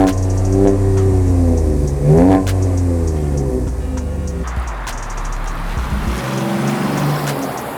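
A supercharged Chevy Colorado ZR2 pickup engine with upgraded exhaust and intake revs up and down in repeated throaty bursts, loud and close, then settles into a rough rumbling idle.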